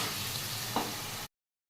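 Ground spice paste sautéing in a pan gives a steady, moderate sizzle and frying hiss, with a faint stir scrape partway through and no voices.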